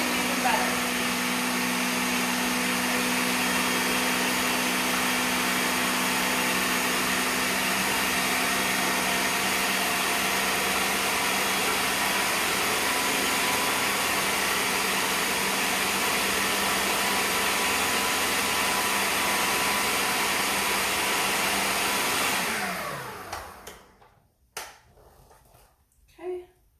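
Small kitchen blender running at a loud, steady high-pitched whir for over twenty seconds, then winding down and stopping, followed by a few light knocks and clicks.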